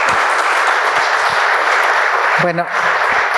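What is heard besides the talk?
audience applause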